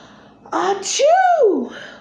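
A voice imitates a bear's enormous sneeze, a sharp gasping intake followed by a loud, drawn-out rising and falling "achoo" cry, delivered close and alone in a storytelling performance.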